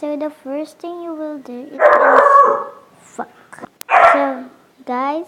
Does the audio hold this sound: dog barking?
yes